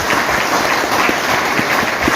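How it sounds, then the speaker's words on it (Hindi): A hall audience claps steadily at a DXN business motivational gathering, a dense, even patter of many hands with no voices over it. "प्लीज इनके लिए एक जोरदार ताली बजाएं"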